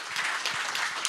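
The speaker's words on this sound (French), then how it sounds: "On peut applaudir, je pense, l'intervention." A conference audience at a French IoT event claps after a talk, a brief, moderately loud patter of many hands with no voices over it.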